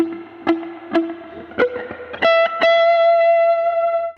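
Electric guitar with a subtle delay and no overdrive pedal in front, playing a short blues phrase of plucked notes that ends on a sustained ringing chord, fairly close and alone.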